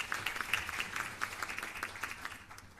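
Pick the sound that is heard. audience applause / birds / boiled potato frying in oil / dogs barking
audience applause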